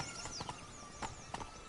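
Horse hooves clip-clopping at a quick galloping rhythm in The Witcher 3, close and fairly faint, with a few distinct hoof strikes standing out over a soft ambient game background.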